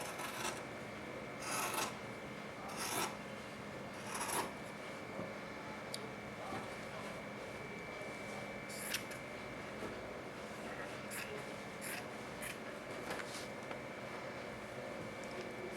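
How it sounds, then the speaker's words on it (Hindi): Scissors rasp steadily through the back seam stitching of a baby shirt's fabric, with repeated sharper snips standing out at intervals over a faint constant hum, close by and with no talking. "तो सबसे पहले हम पीछे वाली सिलाई काट देते हैं।"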